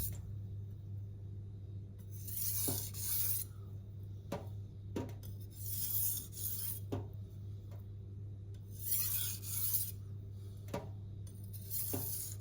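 A clad stainless knife sharpened on a Venev resin-bonded diamond stone, F240 and F400 grit, with soft repeated swishing strokes in bursts about every three seconds, plus occasional light taps, quiet and close, no talking.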